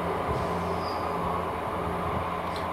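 A Class 158 diesel multiple unit rumbles through Filton Abbey Wood station, a steady loud rolling drone with low engine hum and faint rail squeals running throughout.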